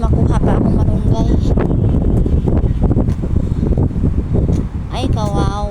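Strong gusts roar and buffet the microphone in a loud, constant rumble outdoors, with brief whistling bursts and a person talking under the wind.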